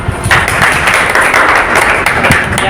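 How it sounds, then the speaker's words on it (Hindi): An audience at a personality development seminar claps together in loud, dense, sustained applause that fills the room from start to finish. "तालियां बजा देना"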